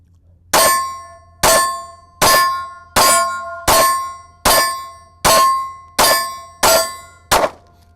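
PSA Micro Dagger pistol firing Federal 124 grain HST defensive rounds, ten loud, sharp shots in an even rhythm about three-quarters of a second apart, each with a short ringing decay, the final two nearly back to back.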